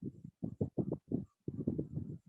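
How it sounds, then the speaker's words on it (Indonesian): A horse sound is played in a guessing game during an online webinar. It comes as short, rhythmic bursts separated by brief silences, fairly close and clear. "Itu adalah kuda."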